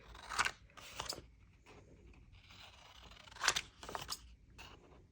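Coffee-dyed card stock paper crinkles in several sharp, crisp bursts, two clusters of close crackling handling separated by quieter rustle.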